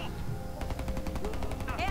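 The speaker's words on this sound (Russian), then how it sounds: "Пулемет их, короче, валит." Rapid bursts of machine gun fire in the video game Homefront: The Revolution, rattling in quick repeated shots under a busy mix of game effects.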